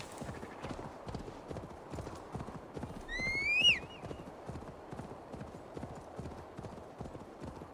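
Horse hooves clip-clop in a steady, even rhythm during play of Assassin's Creed Valhalla, with a brief whinny rising partway through, all close and fairly loud.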